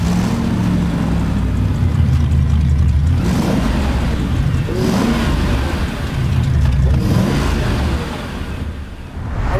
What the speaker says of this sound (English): I take this car, start the engine, and the smile comes on my face immediately